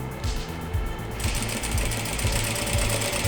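Domestic sewing machine stitching a plaid fabric face mask, a steady, close, rapid mechanical whir of the needle that picks up and grows louder partway through, running continuously with no talk.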